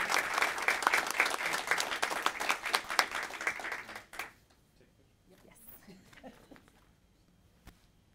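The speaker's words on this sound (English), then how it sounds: "With that, a round of applause." Audience applause fills a county board of commissioners meeting, loud and dense for about four seconds, then breaks off into scattered faint claps, shuffling and room noise.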